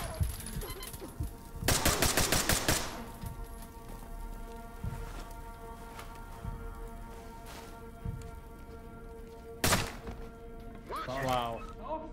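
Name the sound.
gunfire in video game Ready or Not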